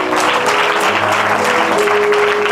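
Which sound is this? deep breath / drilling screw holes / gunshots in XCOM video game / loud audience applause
loud audience applause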